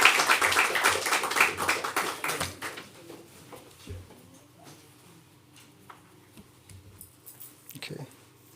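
Audience clapping at an annual general meeting, a burst of brisk claps up close that fades after a few seconds into quiet room noise with scattered taps.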